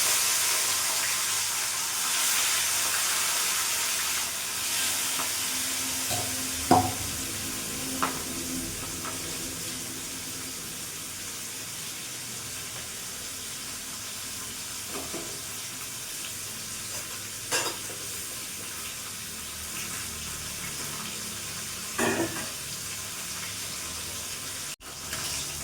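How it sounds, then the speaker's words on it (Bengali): Rohu fish frying in hot mustard oil in a kadai, a soft continuous sizzle with a few brief clatters and knocks as pieces are turned, fairly quiet and close. "তেল গরম হয়ে গেছে, এক এক করে মাছগুলো আমি ছেড়ে দেবো।"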